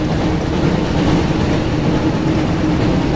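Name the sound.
train in Harry Potter Chamber of Secrets PS1 video game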